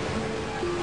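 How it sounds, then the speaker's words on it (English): Massive storm waves pound the construction boats working offshore in rough March weather, a loud, continuous broadband roar of surf and churning water with no pauses. "Massive waves batter the boats that need calm water to place the sand and rock with pinpoint accuracy."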